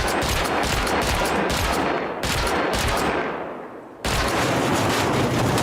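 Explosive bullets fired at a wall in the game Rust, heard as close, rapid, loud bursts of gunfire with repeated impact cracks. A brief lull lets the fire trail off before another dense burst resumes. No voices.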